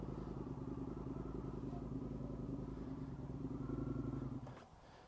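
An Indian FTR 1200 motorcycle engine thrums at a steady low idle close by, then the note drops away abruptly near the end as the clutch is engaged.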